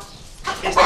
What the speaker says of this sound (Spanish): Ahora, como vais a ver, voy a coger una gallina.